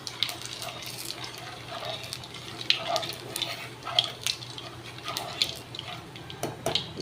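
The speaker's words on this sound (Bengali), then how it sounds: "এই তেলের ভেতরেই একটু কালো জিরে ফোড়ন দিলাম" Black cumin seeds crackle and sizzle in hot oil left over from frying fish, a busy hiss with small pops throughout, close and moderately loud, with no talking.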